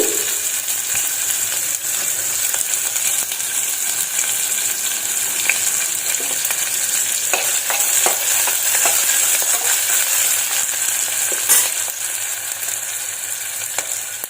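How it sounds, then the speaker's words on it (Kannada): Onion and green chilies fry in hot tempering oil with browned urad dal, giving a continuous loud sizzle and hiss, with intermittent clinks and scrapes of stirring. "ಉದ್ದಿನ ಬೇಳೆ ಬ್ರೌನ್ ಕಲರ್ ಬಂದಿದೆ ಹಾಗೆ ಈರುಳ್ಳಿ ಮತ್ತು ಹಸಿಮೆಣಸಿನ್ಕಾಯಿನ ಹಾಕ್ತಾ ಇದ್ದೀನಿ"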